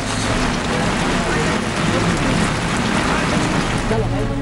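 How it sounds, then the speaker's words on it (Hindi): Rain falls steadily on the roads of the Kedarnath valley, a dense, even hiss of drops throughout, fairly loud and unbroken, with a possible faint low rumble underneath. "अब वहां सिर्फ बारिश की बूंदों का शोर सुनाई दे रहा है"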